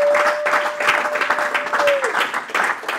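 Church congregation at a Sunday worship service applauding, a crowd of clapping hands with a steady held tone underneath that fades out partway through, close and lively.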